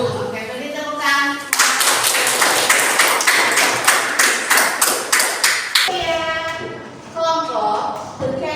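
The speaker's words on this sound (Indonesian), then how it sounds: "Oke, beri tepuk tangan." Class applause after a group presentation, a burst of lively, close clapping from a room of students that rises quickly, holds steady and then fades out, with talking before and after it.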